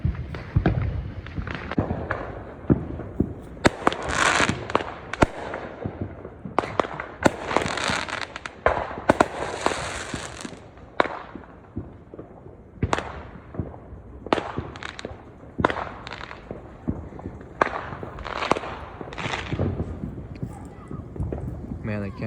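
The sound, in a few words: fireworks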